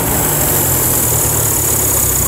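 An abandoned Land Rover's engine idles steadily and loudly up close, a continuous low rumble with no other sounds over it.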